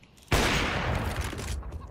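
Loud burst of gunfire from the Counter-Strike map Inferno, a sudden dense volley that starts sharply and sustains for over a second before tapering, close and alone with no talk.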